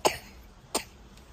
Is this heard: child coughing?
yes